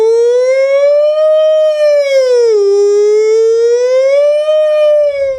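A voice imitates a police siren during a sound-guessing party game, one continuous loud wail rising and falling in a slow sweep with no other sounds beside it.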